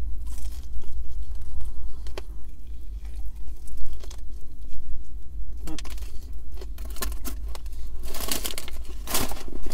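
Crunchy bites and chewing of crispy, breaded, spicy fast-food chicken wings from KFC, close to the mic, with irregular crackling crunches that grow denser toward the end and no talking.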